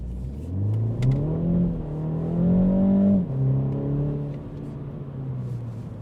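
A 2025 MINI Cooper John Cooper Works drives along, its engine note rising and falling steadily through the gears with a near, continuous hum and no voices.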